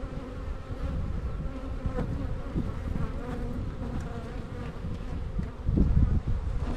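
Honeybees and drones buzzing steadily in an opened hive during a spring inspection, a dense close drone that swells briefly near the end.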